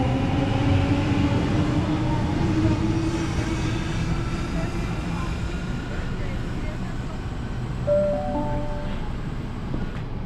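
A T8 passenger train departs Revesby station on a MacArthur service, giving a steady low rumble and rolling wheel noise with wind buffeting the microphone and brief high squeals near the end.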